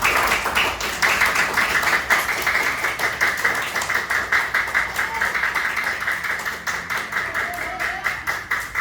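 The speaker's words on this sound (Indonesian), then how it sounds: "tepuk tangan dulu untuk kalian semua" A classroom of students applauds, a steady run of many hands clapping together at close range, sustained throughout with no talking over it.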